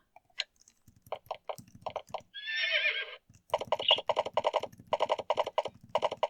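A horse in Exile III lets out one short whinny amid bursts of rapid clicking and tapping that come before and after it.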